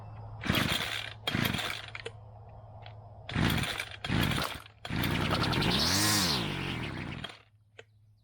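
A small two-stroke engine on a salvaged weed eater, choke set, is pull-started several times: short bursts of ripcord cranking, then a longer sputtering run as it briefly catches and revs before dying out.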